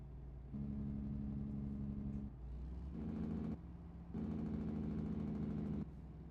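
A truck's engine brake in a truck-driving video game blats in loud, rapid bursts of low rumbling, cutting in and out several times over a steady diesel drone.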